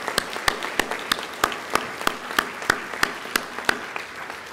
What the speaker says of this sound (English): can you guys give her a round of applause for us?